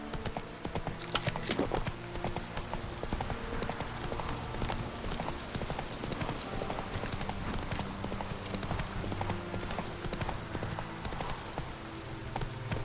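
Roach the horse trotting in The Witcher 3, a steady rapid clip-clop of hooves running throughout, close and even, with faint game ambience underneath and no talk.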